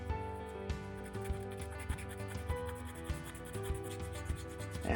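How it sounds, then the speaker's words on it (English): Steady rubbing and scraping of sandpaper on 3D-printed plastic parts, smoothing print lines and support marks, repeating in short back-and-forth strokes over a faint background hum. "There are print lines and some rough edges where the supports were, and that means sanding."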